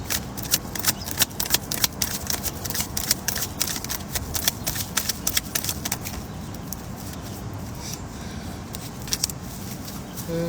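A deck of tarot cards being shuffled repeatedly, crisp riffling bursts close up, steady and continuous, then easing off toward the end.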